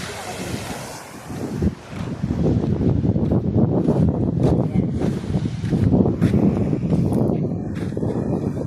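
Rough sea surf on a beach in Ilocos Sur, Philippines, rushes and churns in a continuous roar, mixed with heavy wind buffeting the microphone and faint voices underneath.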